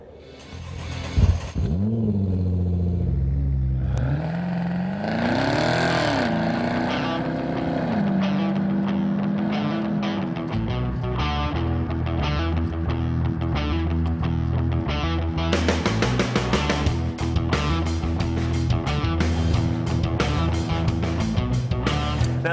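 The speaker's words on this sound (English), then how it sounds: "Let's drive the 2012 Camaro ZL1 and check the tech." A 2012 Chevrolet Camaro ZL1 engine drones steadily while driving, with a loud, sustained rumble that rises and falls in pitch as it revs and shifts, staying close and continuous throughout.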